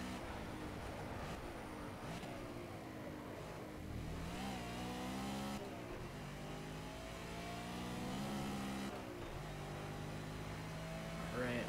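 A BMW M3 GT4 race car engine at Hockenheim in Project Cars, revving hard through gear changes with rising and falling pitch, steady and close. Someone talks over it.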